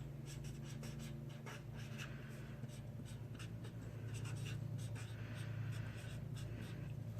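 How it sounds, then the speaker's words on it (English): A name being written on paper along a long practice line, a continuous close scratchy stroke sound with brief pauses between letters, and no speech. "you're going to practice writing your name on this big, long line"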